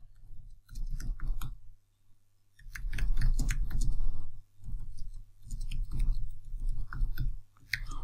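Quick bursts of typing on a computer keyboard while entering code on Linux, clustered clicky keystrokes with brief pauses between runs, close and clear over a low steady hum.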